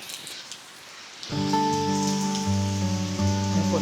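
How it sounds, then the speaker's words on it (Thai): Rain patters steadily on a tent at Namtok Phlio National Park, Chanthaburi, Thailand, joined midway by a sustained tonal hum that continues over the drumming of drops. "ฝนตกอีกแล้ว"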